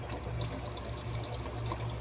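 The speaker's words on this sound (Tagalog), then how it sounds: "Padamihin ko muna yung tubig kasi mahina." Tap water runs steadily into a basin during hand-washing of clothes at home, a faint, continuous splash and trickle with a low hum underneath and no talk.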